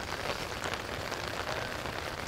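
Rain falls steadily on a golf course during a tournament round, a constant soft broadband hiss with no talk and no change in level.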